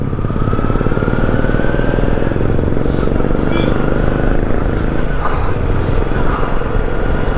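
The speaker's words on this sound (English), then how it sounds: "Here he is going in front of me in his Royal Enfield Thunderbird" A Royal Enfield Thunderbird motorcycle rides ahead on the road, its thumping single-cylinder engine mixed with loud, steady wind rush and road noise from a following bike.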